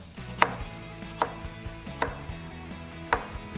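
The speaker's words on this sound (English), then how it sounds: "I can slice it in half, then little slices" Vegetables for borscht are sliced with a knife on a board, giving five crisp, evenly spaced chops, clear and close, with a quiet background between strokes.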